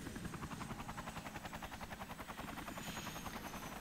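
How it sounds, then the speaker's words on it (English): A helicopter in the Lollipop Chainsaw video game drones with a steady, rapid rotor chop, a fast thudding pulse that stays constant and fairly loud throughout, with no speech. "Get to the chopper."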